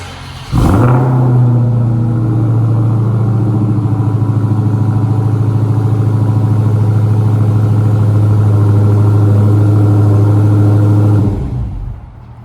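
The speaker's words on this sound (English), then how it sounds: "This car does have remote start, which I will demonstrate for you because I simply want to turn this car on." A 2020 Dodge Challenger SRT Hellcat Widebody coupe's supercharged engine fires up by remote start with a sharp burst, then settles into a loud, steady, deep idle for about ten seconds before cutting off.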